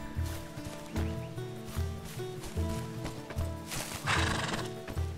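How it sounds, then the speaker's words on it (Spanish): Horses neigh and whinny repeatedly in the medieval village-building game Robin Hood Sherwood Builders, with clip-clop hooves underneath, close and fairly loud, no talk. "Miren, tienen caballos."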